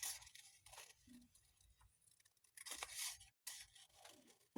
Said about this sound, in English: I'm just gonna cut it out.